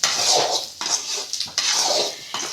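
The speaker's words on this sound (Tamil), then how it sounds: "மொத்தமாக கரண்டி வச்சு இன்னொரு நல்லா வதக்கிக்கோங்க" A ladle stirs colocasia fry (arbi roast) in a pan, with repeated scraping strokes against the metal in a loose rhythm, close and moderately loud, about four passes.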